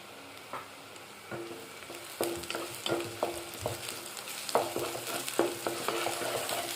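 Ginger garlic paste with cumin and coriander powder fries in a pan for an Andhra-style drumstick and sweet potato curry, a steady sizzle broken by repeated scraping stirs, close and clear with no talk.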